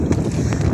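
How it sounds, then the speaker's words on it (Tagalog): Strong wind blowing at sea on a spearfishing outing, producing loud, close buffeting rumble on the microphone with irregular gust surges across the whole short stretch. "malakas-lakas ang hangin"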